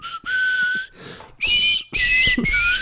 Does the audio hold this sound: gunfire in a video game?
no